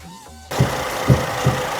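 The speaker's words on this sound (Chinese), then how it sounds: "这发动机简直在里面在晃啊" A Mercedes engine running with an abnormal rattling knock from inside, heard as a steady mechanical hum broken by three distinct low thuds at roughly half-second intervals, close and fairly loud after a brief quieter start.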